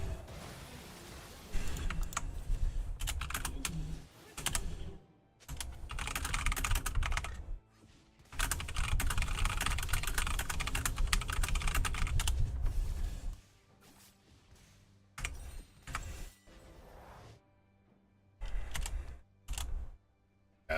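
Rapid typing on a computer keyboard clatters in dense bursts separated by pauses, close and fairly loud, with the keys' sharp clicks dominating and no talk over them.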